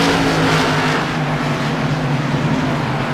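Race cars at Langley Speedway roar past together in a loud, continuous engine drone that slowly fades slightly, with no clear pauses.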